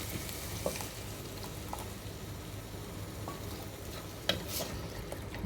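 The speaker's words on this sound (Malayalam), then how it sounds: "നമ്മൾ പുളി റെഡിയാക്കി വെച്ചത് നമുക്ക് ഇതിനകത്തേക്ക് ഒഴിച്ചു കൊടുക്കാം" Tamarind water hits a hot clay pot for rasam and keeps up a low steady sizzle, with faint stirring taps and one sharper knock near the end.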